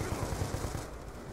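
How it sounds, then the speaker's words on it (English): Rapid automatic gunfire aimed at a SAT antenna in Call of Duty: Black Ops 2, a short, dense burst of evenly spaced low thuds at steady loudness with no voices. "SAT antenna is under fire."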